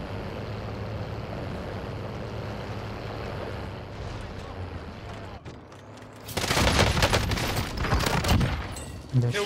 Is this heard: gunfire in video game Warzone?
yes